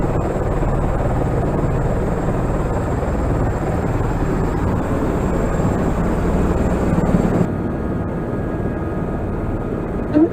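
Helicopter flying over Niagara Falls, heard from inside the cabin as a loud, dense rotor and engine roar that holds steady before easing slightly near the end.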